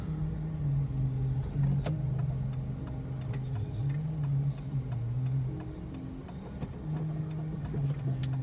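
Busy street traffic with fast motorbikes at school dismissal near XT Square, heard as a continuous droning engine rumble with passing revs and occasional sharp clicks.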